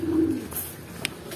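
Racing pigeons coo in a low, soft call near the start during a 117 km training flight return, followed by faint rustling and a brief sharp tick.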